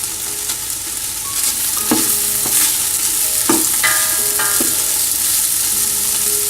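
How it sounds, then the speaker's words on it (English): Bacon fries in its own rendered fat in a pan for corn chowder, a steady sizzle with occasional stirring scrapes and sharp crackles, close and loud, with no voices. "we are going to cook on the bacon's oil itself"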